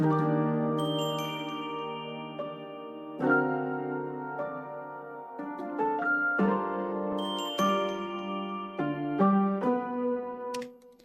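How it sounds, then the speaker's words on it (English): Bright glockenspiel bell tones ring out over a gentle piano loop, with notes overlapping and sustaining in a slow, melodic pattern. "And then after that, we've added this bell. It sounds like this with the piano."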